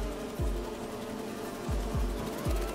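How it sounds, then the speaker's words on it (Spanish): Bees buzz in the video game Marvel's Spider-Man 2, a faint, continuous hum layered over low game background sound with a few soft thumps. "¿Escuchas esos pequeños lobos de abejas?"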